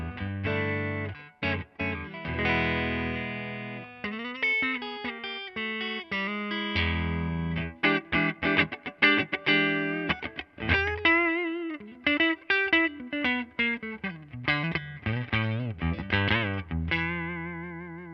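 A Fender electric guitar plays heavily distorted, effect-laden riffs and sustained notes, with choppy rhythmic bursts and wavering, modulated tones, no voices.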